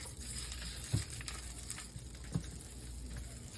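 German bratwurst sizzling in oil in a skillet, a steady, quiet frying hiss with a couple of soft clicks and pops.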